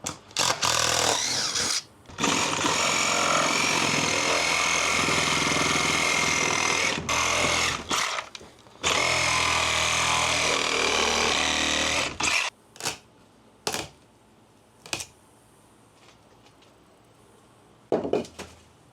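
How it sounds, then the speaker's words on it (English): A Sawzall reciprocating saw cuts through front entryway framing in long loud buzzing bursts with short pauses between them, followed by clattering knocks of wood and tools as the cutting stops. "Unfortunately, brought my tools home, so I do have my Sawzall."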